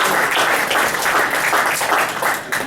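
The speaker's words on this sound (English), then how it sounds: "Give a round of applause to Leo" Loud crowd applause for boxer Leo Santa Cruz at a press conference after his win over Mares, a steady dense clatter of many hands that holds throughout and tapers slightly at the end.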